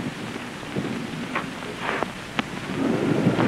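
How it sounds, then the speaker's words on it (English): Thunder and rain in a 1930 murder mystery film, a low rumbling storm with rain hiss and a few sharp cracks, growing louder toward the end, with no talking. "Ah, thunder and lightning."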